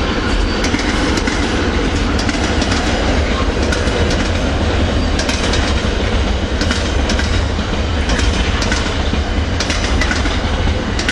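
A Class 66 diesel locomotive hauls a fully loaded freight train toward Felixstowe past Werrington Junction, with loud, continuous rumbling and repeated clickety-clack of wagon wheels over rail joints, close by and steady throughout.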